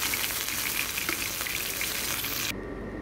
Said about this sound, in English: We will brown our chicken for 2 minutes per side.